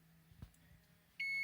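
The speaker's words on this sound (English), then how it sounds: "Once the timer goes off, we'll take it out and see how it looks." Oven timer going off at the end of baking a homemade pizza, a steady electronic beep that starts suddenly near the end after a quiet kitchen stretch.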